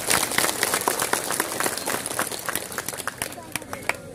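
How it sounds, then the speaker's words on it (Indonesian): A crowd at an outdoor PSHT religious gathering in Paron, Ngawi claps loudly and close, a dense burst of many hands that gradually thins into scattered claps near the end. "Tepuk tangan untuk PSHT."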